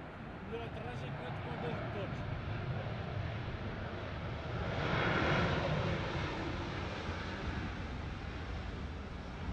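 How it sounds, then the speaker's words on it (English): An airliner's jet engine roars steadily on landing, swelling louder in the middle as reverse thrust kicks in on the right engine only, then settling back to a heavy drone. "You can see that only the right engine was used for reverse thrust."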